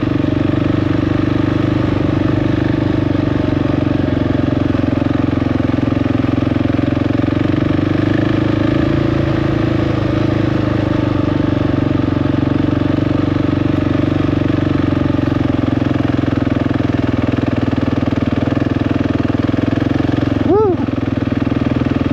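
A KTM 690 Enduro R single-cylinder engine drones loud and steady in low gear up a steep mountain trail, a continuous close rumble with a rider talking over it.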